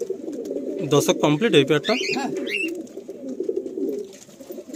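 Madrasi pigeons, a pair for sale in Kolkata, give soft cooing calls close by while someone talks over them.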